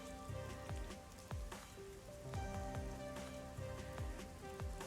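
Rain falling on surfaces in the video game Master Detective Archives: Rain Code, a soft steady patter of drops with layered musical tones and low plucked notes throughout, quiet overall.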